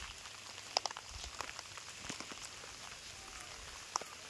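Rain falls on an open farm field, a soft, fairly faint patter with a few sharper drop ticks scattered through it and no clear talking.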